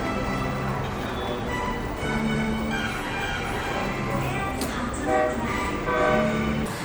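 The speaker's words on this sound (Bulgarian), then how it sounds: "И влакчето си отива." A miniature food-delivery train pulls away from a table in a Prague restaurant, a steady mechanical rolling whir with faint toy-like tones under busy dining-room chatter and clatter.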